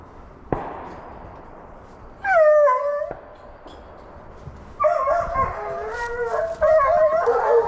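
Dog howling outdoors during a deer hunting drive in Bowman, South Carolina, with two separate bursts of long, wavering howls over quiet woodland air; one short, sharp bang comes before them.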